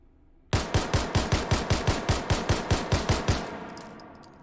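Rapid semi-automatic fire from an HH9 pistol fitted with a stock and muzzle brake in the H3VR virtual-reality game: about fifteen sharp, evenly spaced shots in quick succession, loud and close, then a fading tail.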